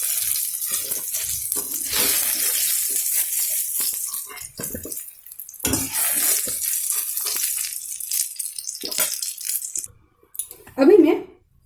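Brinjal fries in hot oil, a loud, steady hiss of bubbling and sizzling that fades briefly and returns, ending with a short clattering sound near the close.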